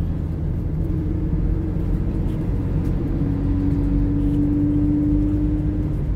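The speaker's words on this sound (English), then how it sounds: "Bear with me, I am driving." Inside a moving car, a constant low road rumble and tire noise fill the cabin, with a faint steady engine hum rising slightly midway; no talking.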